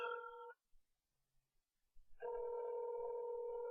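A telephone call being placed: a steady electronic tone, a pause with faint clicks, then a longer sustained ringback tone, clear and close, with no talking.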